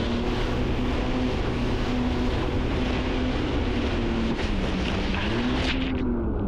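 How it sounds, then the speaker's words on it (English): A Yamaha WaveRunner engine drones steadily and dully through rough, whitecapped water on Lake Winnipesaukee, muffled as if heard through a soaked GoPro housing, with a faint pitch wavering and wind rushing continuously underneath. "If you listen to the sound of the engine, it got really muffled"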